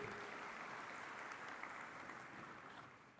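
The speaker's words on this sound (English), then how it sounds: "A round of applause." Steady applause from a graduation ceremony audience at Nawaloka College of Higher Studies, a dense even wash of clapping that fades slightly toward the end, with no voices over it.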